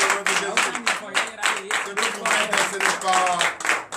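Church congregation at a Sunday worship service clapping together in a fast, steady rhythm of sharp claps, close and loud, with a voice rising briefly over the applause.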